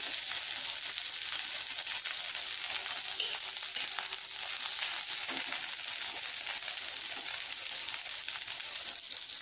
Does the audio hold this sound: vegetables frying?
yes